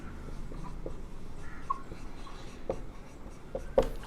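Pen or marker writing notes on a board or paper, faint scratchy strokes with a few sharper taps, close and steady without speech.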